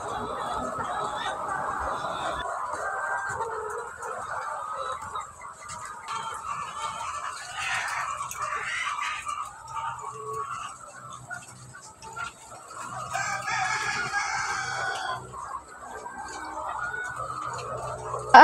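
Caged hens cluck in a steady, busy chorus on a poultry farm with chicks and laying hens, the sound continuing throughout at moderate volume.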